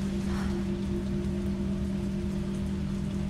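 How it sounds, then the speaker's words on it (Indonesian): Steady rain falls outside in Resident Evil 3, a continuous broad wash of drops over a low, constant hum, with no talk. "Gue mendengarkan suara hujan."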